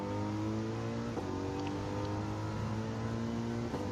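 A Mercedes race car engine in the Gran Turismo racing game holds a steady, droning high-revving note at constant pitch, loud and continuous for the whole stretch, with faint shifts in tone.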